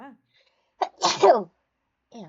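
A single sharp sneeze bursts out between short bits of nearby talk, loud and close, with brief voices just before and after it.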